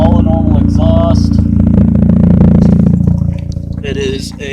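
Mazda RX8 rotary exhaust running through a Y-pipe to dual tips, with the muffler deleted but the OEM catalytic converter and resonator kept, swelling to a louder raspy roar midway before easing back down, heard up close.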